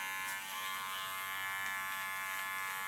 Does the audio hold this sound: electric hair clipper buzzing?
yes